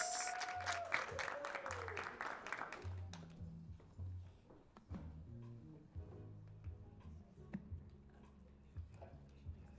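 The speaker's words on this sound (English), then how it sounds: "let's give another round of applause for Miss Florence." Audience at a tech summit gives a round of applause, a lively burst of clapping for about three seconds that dies away into quiet speech.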